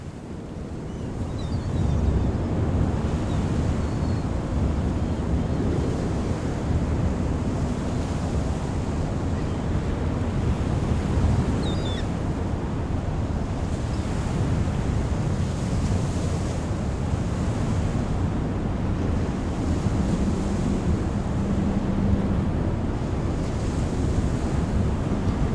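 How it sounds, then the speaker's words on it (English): Strong wind buffets the microphone on a North Carolina beach while surf crashes and rolls continuously in the background, a loud, steady roar with no voices. "As you can probably tell, the beach is super windy today."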